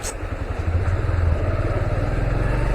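A motorcycle engine running on a rain-flooded road, a close, steady low rumble with a fast pulsing throb that stays even throughout.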